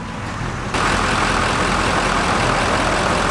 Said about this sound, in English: let's pop the hoods on the trucks and listen and look at the diesel motors under these hoods